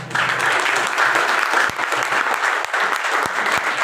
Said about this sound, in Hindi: एक बार जोरदार ये ताली है।